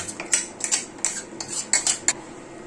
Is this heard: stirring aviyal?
yes